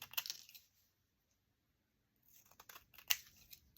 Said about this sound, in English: I'm going to trim off everything hanging outside the cover